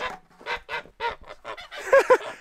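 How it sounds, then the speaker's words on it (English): Geese on a farm honk close by in a quick series of loud, nasal calls, about eight bursts of varying length that crowd together toward the end. "You gotta watch it with these geese because they eat everything."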